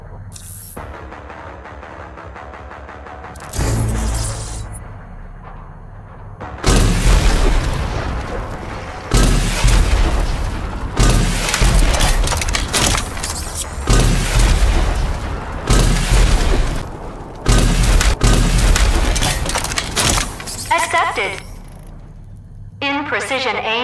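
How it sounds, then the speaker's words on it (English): In the shooter Rage 2, a smart rocket launcher locks on and fires clusters of small homing rockets. Heavy booms and blasts come in rapid, loud bursts separated by brief gaps, with static-like noise at the edges. "the smart rocket launcher can lock onto a target and fire multiple small homing rockets"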